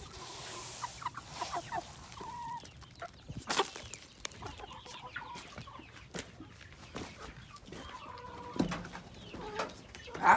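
Farm chickens clucking in a pen on a rainy day, scattered short calls coming and going at moderate distance over a quiet outdoor background with occasional thumps.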